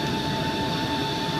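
A US Airways Boeing 757-200 landing at Philadelphia fills the cabin with a steady, loud engine and airframe roar and a whining tone, continuous throughout with no talk.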